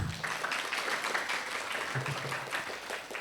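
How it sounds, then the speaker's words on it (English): Soft clapping from a conference audience after a plenary session, a faint, even patter of hands heard at a distance in a large room. "Please give them both a round of applause."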